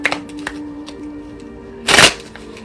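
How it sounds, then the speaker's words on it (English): Tarot cards being shuffled, a soft riffling burst of card edges near the end, preceded by a few light taps and a steady low hum in a quiet room. "I'm going to shuffle this again."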